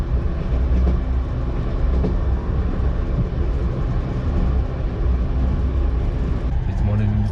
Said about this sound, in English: I'm going to take the night train to Khiva and explore another old town of Uzbekistan.